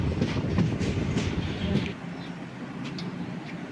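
A passenger train runs along the tracks near Mararikulam station in Kerala, giving a close, continuous rumble with rhythmic clattering from the wheels and carriages.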